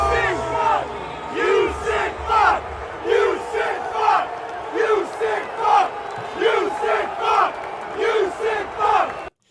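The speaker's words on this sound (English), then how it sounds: "Jags fans chanting, "You sick fuck," at Deshaun Watson." Jacksonville Jaguars fans in a stadium crowd chant a taunt at Deshaun Watson, a loud rhythmic group shout repeating in regular bursts about once a second, with crowd roar between.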